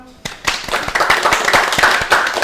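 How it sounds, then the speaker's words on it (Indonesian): An audience at a tourism and creative-economy talk breaks into clapping after a short pause, the applause building quickly into a loud, dense patter of many hands that continues to the end. "Tepuk tangan dulu dong"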